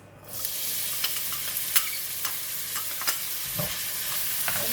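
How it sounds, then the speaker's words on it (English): Chopped onions frying in two or three tablespoons of oil in a pan, a steady broadband sizzle with scattered crackles and pops, close and fairly loud with no talking. "Fry the onion first."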